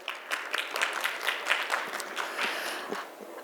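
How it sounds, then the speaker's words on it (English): Applause from a summit audience, a moderate, fairly distant crowd clapping steadily throughout with a soft, continuous patter of hands. "Can we give them a round of applause?"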